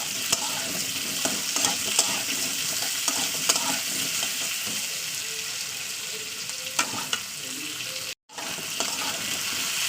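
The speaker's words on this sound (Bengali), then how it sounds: "আলুটাকে দিয়ে না দু থেকে তিন মিনিট ভাজা করে নেবো" Potato pieces sizzling and frying in a hot pan, a constant crackling hiss with scraping stirs now and then, close up; a brief dropout near the end.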